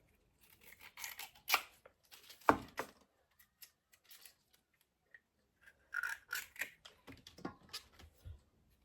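Fresh young bamboo shoots being peeled by hand, giving irregular crisp snapping, tearing and scraping bursts, close and fairly quiet, separated by short pauses with no talking.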